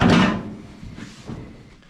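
A heavy door on a 1958 Plymouth under restoration is shut with a loud, close metallic thunk, followed by softer rattling and a second fainter knock as the panel settles.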